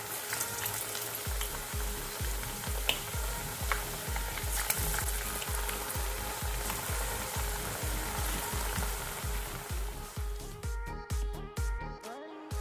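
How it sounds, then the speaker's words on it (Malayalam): Lentil vadas (parippu vada) fry in hot oil, a dense close crackling sizzle with rhythmic bubbling bursts throughout, growing more sputtery and uneven toward the end, with no talking. "തിളച്ച് കഴിയുമ്പോൾ നമുക്ക് ഓരോ പരിപ്പുവടകളായിട്ട് ഇട്ട് കൊടുക്കാം."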